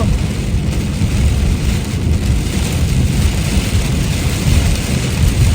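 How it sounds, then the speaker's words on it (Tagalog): Very heavy rain pours down in Canada, a dense, steady, loud roar of water with no pauses and no voices. "Grabe lakas sa ulan."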